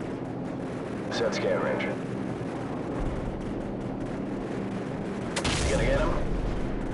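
Gunfire in Call of Duty 4: Modern Warfare: heavy cannon-like bursts and booms over a rumbling vehicle engine, with radio chatter in between.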